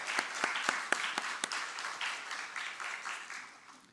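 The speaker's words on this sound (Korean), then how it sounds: "우리 은퇴하신 모든 분들을 위해서 박수 한번 할까요?" A church congregation applauds its retired elders: a few distinct, sharp claps open, then blend into a softer, moderately distant wash of clapping that gradually fades away.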